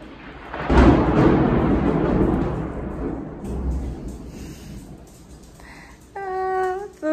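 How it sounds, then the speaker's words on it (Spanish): Thunder from a thunderstorm rumbles loudly near an indoor flat, a long rolling roar that swells early and fades over several seconds, followed by a brief high electronic beeping toward the end. "no nos gustan las tormentas"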